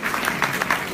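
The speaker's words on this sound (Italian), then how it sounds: "così ti fanno l'applauso" A short burst of audience applause at a live talk, dense overlapping clapping for under a second at moderate loudness with no voices over it.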